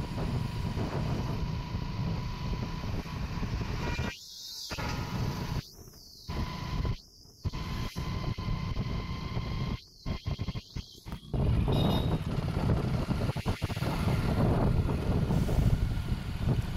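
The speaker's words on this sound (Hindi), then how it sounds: "ये हाईवे पर सवारी बहुत चलती है, गाड़ी मैं भी तेज़ चला रहा हूँ" Steady wind and road roar recorded from a fast-moving vehicle on the highway between Puranpur and Pilibhit, with passing traffic swelling in and out and several brief dropouts partway through.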